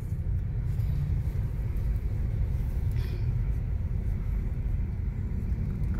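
Steady road traffic on EDSA between White Plains and Cubao, a continuous low rumble of cars heard from inside a moving vehicle, with no talk.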